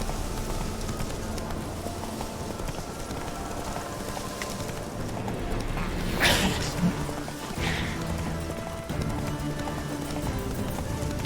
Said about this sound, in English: Some wild horses nearby as well